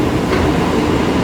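A night KRL commuter train near Bekasi, speeding up again, heard from inside as a loud steady rumble with rattling wheels on the track.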